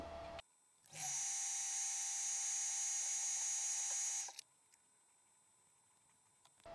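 A lathe whirs at a steady high pitch for about three seconds as a drill cuts into steel, then stops, leaving a faint background hum.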